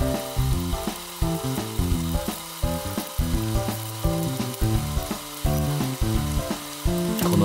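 An egg fries in a Turk iron pan coated with soy sauce and mayonnaise, giving a loud, close sizzle broken by regular rhythmic pulses and scraping.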